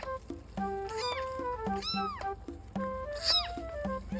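Newborn kittens with freshly opened eyes mew over and over, thin high cries close by, overlapping in a quick uneven series.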